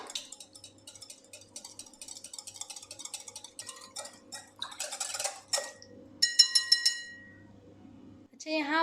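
Eggs, milk and yogurt are mixed in a bowl for chocolate cupcakes, with a quiet run of quick clinks and taps against the bowl that grows louder and scrapier toward the end.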